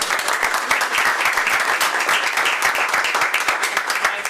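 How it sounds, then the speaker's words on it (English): An audience at a school board meeting claps continuously, a close, full round of applause with crisp individual claps audible throughout. "So if we could have a round of applause for Vanessa."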